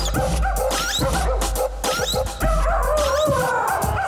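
White Swiss Shepherd dogs from a kennel bark repeatedly and close by, with sharp overlapping barks and some yips and whimpers in an irregular burst.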